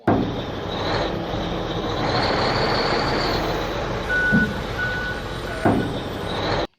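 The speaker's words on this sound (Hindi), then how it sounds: "अब वो ट्रक है, ट्रक का लेकर आओ" A toy truck reversing to tip out soil gives off a steady, fairly loud electronic reversing beep pattern with mechanical toy whirring throughout, plus a few sharp clicks and knocks from handling close by.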